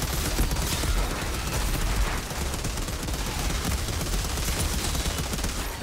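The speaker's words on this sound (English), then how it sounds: "There's fucking LMG in it, bro." Light machine gun fire in the shooter game Outriders, a dense, continuous burst of rapid shots layered with explosive rumble, loud and sustained throughout without pause.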